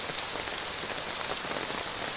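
Morning rain at Phu Wiang falling steadily on surfaces, a dense, even hiss of raindrops with no voices.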